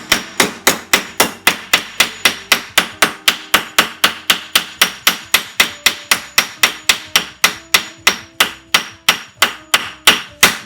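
Repeated sharp hammer blows strike a metal car part clamped in a vise on a 1966 Plymouth Belvedere, about three strikes per second in a steady, loud, close rhythm with no talking.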